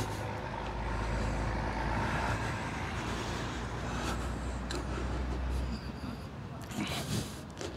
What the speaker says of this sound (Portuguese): Passou um caminhão soltando fumaça escura.